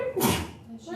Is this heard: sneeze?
yes